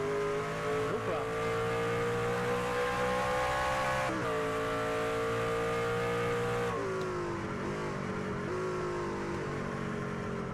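Race trucks in a racing video game run at Watkins Glen with a constant engine drone that rises and falls as they shift and corner. The sound is loud and unbroken, with brief tire squeals.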